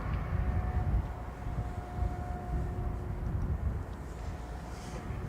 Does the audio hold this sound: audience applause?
no